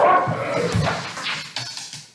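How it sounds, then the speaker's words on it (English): Two golden retrievers scuffle over a ball indoors, giving a short burst of close, harsh growling and snarling with thumps and scrabbling that fades over about two seconds. "My 2 dogs, I have 2 golden retrievers, they were playing with a ball and decided that they both needed the ball."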